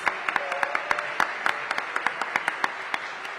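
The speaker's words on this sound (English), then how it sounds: "Give Brooke a big round of applause." An audience at a city budget engagement forum claps for a Ward 2 council member, giving brief, fairly sparse applause with distinct individual claps standing out over a low room murmur.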